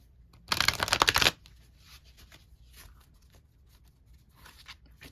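Tarot cards are riffle-shuffled once up close, a loud crisp burst of flapping under a second long, followed by faint handling rustles and quiet room tone.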